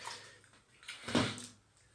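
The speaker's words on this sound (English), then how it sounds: "I take some water and I put in my hands." Water poured or splashed into cupped hands indoors, a single short wet splash swelling and fading within about a second, close and fairly loud with no talking.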